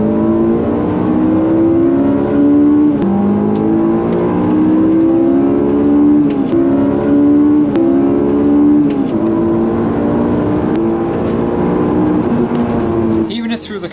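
A Honda S2000 engine fitted with a box-mod intake revs repeatedly, its pitch climbing and falling in steady cycles, loud and close throughout, with a brief rattle at the very end.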